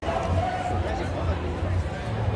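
A crowd of people mills around at the Salem Haunted Happenings celebration, with steady babble and chatter close by and a nearer voice talking over it.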